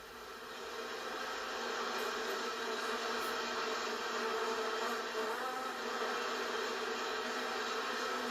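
A swarm of bees makes a continuous, fairly faint buzzing drone that holds steady throughout with no speech.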